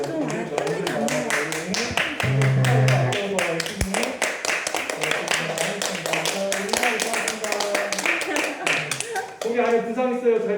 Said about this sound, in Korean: 자, 박수 더 올려주세요.